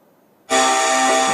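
A quiz competition's electronic buzzer goes off in a test, one abrupt, loud, steady harmonic blare cutting in after a short near-silent stretch and holding unbroken.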